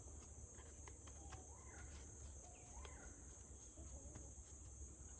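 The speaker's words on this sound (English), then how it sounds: "I forgot what the name of that bird is, but I heard it." A garden bird gives a few short, rising whistled calls at middle distance over a constant high insect buzz and low background rumble, all quite faint.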